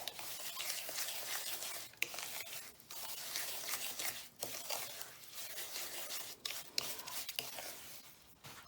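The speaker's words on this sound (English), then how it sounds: "We're going to stir that up and kind of let it dissolve" A spoon scrapes and swishes through half a cup of oil and a cup of sugar in a bowl for pumpkin cake, a quiet, continuous gritty stirring with a few brief pauses.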